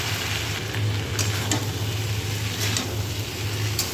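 Potatoes fry in a pan with ground poppy seed paste for Bengali aloo posto, a steady continuous sizzle with occasional faint stirring clicks, close and even throughout, with no talking.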